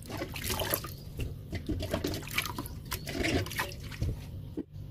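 A basket of freshly washed mustard greens drips and drains, scattered close patters and trickles of water running off the leaves over a few seconds, quiet and without speech.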